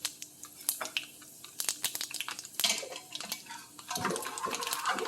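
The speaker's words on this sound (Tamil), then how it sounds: "பருப்பு கரைஞ்சி வச்சுருக்க பருப்பை எடுத்து ஊற்றி தாளிச்சிடலாம்." Dissolved lentils poured into a hot tempering of mustard seeds, cumin and dried chillies in a pot: scattered clinks of utensils and pans, then a splashy liquid pour with crackling sizzle toward the end, no talking.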